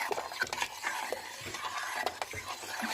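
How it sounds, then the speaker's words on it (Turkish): Rice pudding (sütlaç) mixture stirred in a pot, a soft scraping and swishing with light spoon clinks, close and quiet, with no voices. "içine döküp bir güzel karıştırıyoruz"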